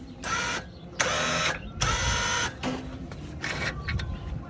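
A winch motor on an Arctic Cat 300 4x4 ATV runs in several short bursts of whirring electric whine separated by brief pauses, close and moderately loud, with no talking.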